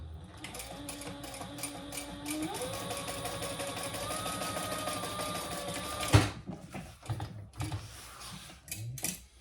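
A sewing machine top stitching a tote bag seam hums steadily and close, its motor pitch rising partway through. It stops abruptly, followed by light handling and fabric rustle.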